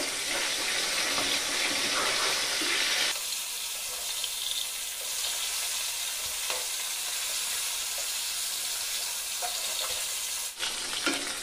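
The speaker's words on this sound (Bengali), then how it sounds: "সরিষার তেলে আমি মাছটাকে সুন্দর করে ভেজে নেব।" Snakehead fish fry in mustard oil in a wok, a loud, close sizzle that drops back after about three seconds and then crackles steadily, with brief stirring and a flare of hissing near the end.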